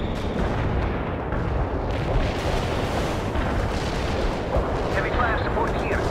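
Artillery shells landing in the World in Conflict: Soviet Assault video game, a dense, continuous rumble of booms and blasts with no clear breaks.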